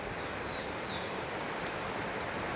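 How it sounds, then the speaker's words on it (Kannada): Rainwater rushes through a full stream under a bridge, a steady close roar of flowing water with no voices. "ದಬ ದಬ ಅಂತ ಹರಿತಾ ಇದೆ ಫುಲ್ಲು ನೀರೆಲ್ಲ ತುಂಬಿ"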